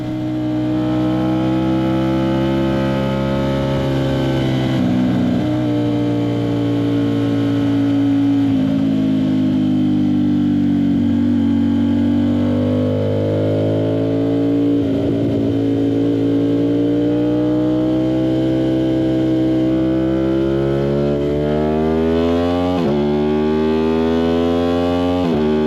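An Aprilia RS660 fitted with a CRT exhaust circles Barber Motorsports Park, its engine a steady, close, continuous drone that shifts pitch gently as the rider eases off to maintenance throttle, with no talk over it.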